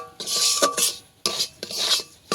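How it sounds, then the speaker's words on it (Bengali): A spoon stirs semolina roasting in ghee, giving a few close, distinct scraping strokes against the pan with brief pauses between them. "সুজিটাকে আমার অনবরত নেড়ে নিতে হবে।"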